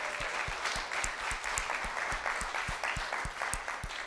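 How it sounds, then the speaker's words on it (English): An audience applauds during a superintendent's talk to the community, a steady wash of many hands with a faintly regular beat running through it, close and continuous from start to finish. "Can you give the Mayfield City Schools a round of applause,"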